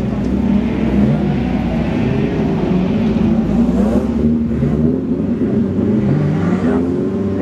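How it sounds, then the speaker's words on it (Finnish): Rallycross cars racing at a Kouvola rally event, several engines revving and shifting pitch in overlapping waves, loud and continuous at moderate distance. "Kaikki 5 autoa vielä liikekannalla"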